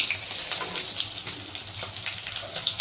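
Boiled potatoes frying in hot oil for a chana chhole and puri meal, a steady close sizzle and bubbling crackle running throughout with no talk.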